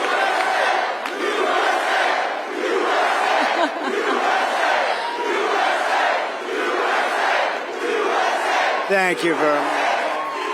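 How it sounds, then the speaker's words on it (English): Large crowd at a town hall in Oaks, Pennsylvania roars and cheers steadily throughout, loud and sustained, with someone briefly speaking over it near the end. "This is a nice crowd."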